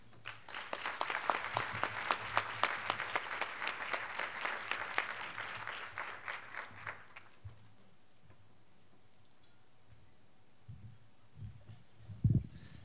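A conference audience at a Chicago health and education forum claps steadily for several seconds, a dense even patter that fades out, leaving a quiet room with a few faint knocks and shuffles.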